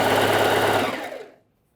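Sewing machine runs in a fast steady whir while joining two fabric pieces of a wrap-style trouser, loud and close, then slows and stops.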